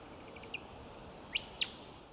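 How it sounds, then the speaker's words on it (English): A Willie Wagtail in inland Australia calls with a run of sharp, high chirps and quick rising-falling whistles, clear and fairly close above a quiet outdoor background. "Willy Wagtail."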